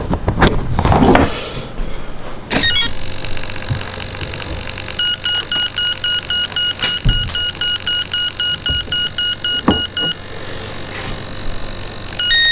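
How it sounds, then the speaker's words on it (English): A rapid series of electronic beeps from a YEP electronic speed controller entering programming mode pulses in a steady rhythm for several seconds, preceded by a couple of short tones and some handling clicks. "it will give a series of beeps indicating that it's in programming mode, and then the confirmation, two beeps"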